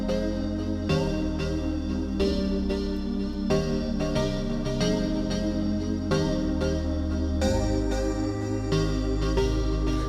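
A synth pad and a keys part play together in a hip-hop beat, the keys striking rhythmic chords every half second or so over the pad's sustained tones and a heavy low end, steady and loud throughout.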